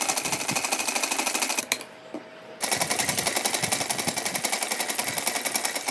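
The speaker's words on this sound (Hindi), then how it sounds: "पूरे घेरे में 3 तरफ ऐसे सिलाई लगा देंगे।" Sewing machine running in steady rapid stitching bursts along a dress border for a Radha Krishna outfit, loud and close, with a brief pause in the middle before the needle resumes its fast rhythmic clatter.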